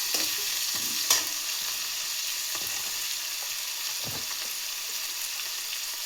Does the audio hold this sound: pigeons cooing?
no